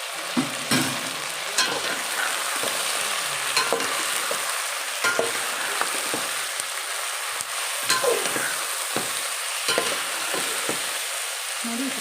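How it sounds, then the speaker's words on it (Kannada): Soaked soya chunks fry with a steady, close sizzle in a pan while a spatula stirs them in repeated scraping strokes, for a vegetable pulao; no voices. "ಆ ಸೋಯಾನು ಹಾಕ್ತಾಯಿದ್ದೀನಿ ಇದರಲ್ಲಿ ಯಾಕಂದರೆ ಸೋಯಾ ಚೆನ್ನಾಗಿ ಫ್ರೈ ಆಗಬೇಕು"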